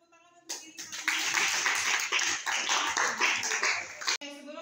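A classroom of students claps their hands together in a dense burst of applause lasting a few seconds, loud and close, with voices briefly audible before and after.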